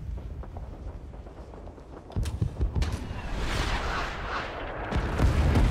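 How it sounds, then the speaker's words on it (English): An artillery barrage in the Vietnam-era game Rising Storm 2: Vietnam, set in Hue City: heavy rumbling booms and blasts pile into a continuous roar that grows louder, with scattered sharp cracks and no talking. "I just didn't want to run when the artillery was coming down."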